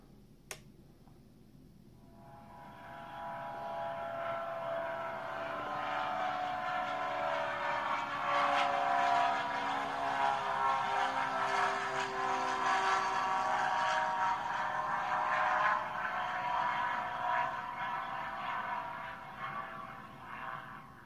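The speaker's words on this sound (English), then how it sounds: "Okay, that was the flyby" A simulated aircraft flyby plays from the speaker of a Spektrum iX12 transmitter: a sharp click, then a single broad whoosh that swells over several seconds, holds loud, and slowly fades away.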